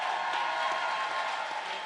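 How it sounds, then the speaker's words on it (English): A crowd at a Charlotte, North Carolina political event applauds and cheers for the Vice President, a steady, dense wash of clapping that fills the whole moment without a pause. "Please give the Vice President of the United States of America another round of applause"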